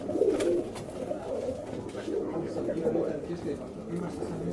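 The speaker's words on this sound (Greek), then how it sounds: "είναι πολύ καλό περιστέρι" Racing or show pigeons in a Greek loft coo in low, rolling murmurs throughout, a steady close flock sound with faint chirps above it and no clear talk.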